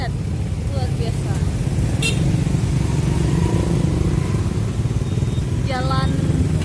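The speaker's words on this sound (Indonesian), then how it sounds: "Suasana macet luar biasa." Heavy traffic jam of cars and motorcycles in Lambaro, Aceh Besar: a dense, constant rumble of idling and creeping engines, with a few short horn toots near the start and a longer honk toward the end.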